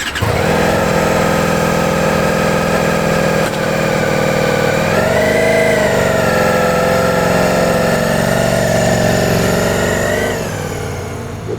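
A Ducati XDiavel V4 cruiser's engine revs hard and loud, a dense throaty roar that rises in pitch, holds, then swells again and eases off, with no voices over it.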